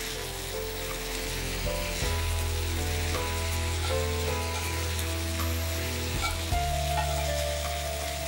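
Chopped onions sizzle steadily in oil on a hot iron tawa, a dense continuous frying hiss with occasional scraping stirs, loud and close throughout.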